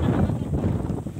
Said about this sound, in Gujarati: બોલો કેટલો પવન કેટલો